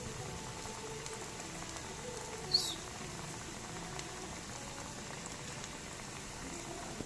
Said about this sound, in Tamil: நான் இப்போயும் அடுப்பு சிம்மில் தான் வச்சு இதை வந்து வறுத்துட்ருக்கேன்.